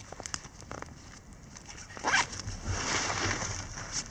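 A zipper is drawn along the side outer pocket of a Fjällräven Abisko 65 l backpack, a close, raspy pull with faint rustling of fabric around it and no talking.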